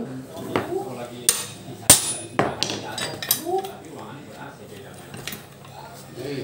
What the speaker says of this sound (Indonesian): Kita kencangkan setara torsi.